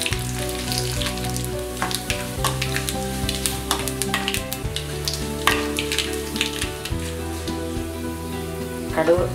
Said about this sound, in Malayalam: കടുക് വറുത്ത് ഒഴിക്കുക